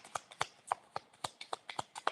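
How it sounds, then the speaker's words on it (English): A deck of cards shuffled by hand close up, giving about nine crisp, evenly spaced snapping clicks in a steady rhythm, fairly quiet and with no talking. "I'm still shuffling the cards for some weird reason."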